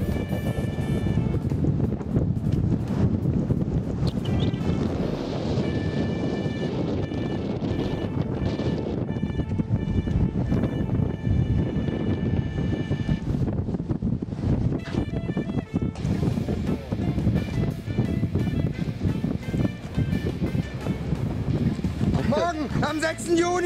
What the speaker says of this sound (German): Windig!